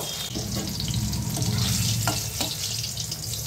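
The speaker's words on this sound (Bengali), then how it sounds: "তেল গরম হয়ে গেছে, এখন দিয়ে দেব কেটে রাখা আম তেলে দিয়ে" Pieces of cut mango hit hot oil in a pan and crackle in a steady, fairly soft sizzle, with a couple of brief clinks from stirring and no voices.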